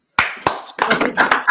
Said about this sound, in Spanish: Preparémonos ya para el aplauso